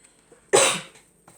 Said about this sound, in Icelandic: ég hósta hérna á ræskimi